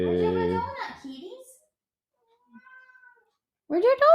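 Cats meowing at home, one long loud meow followed by softer chirps and a faint mew, then another meow at the end, with a person talking to them in between.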